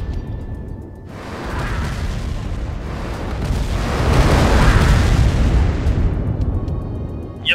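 An ion cannon blast fired in a video game: a loud, dense, roaring rumble bursts in after a second and swells toward the end, sustained for several seconds with no voices.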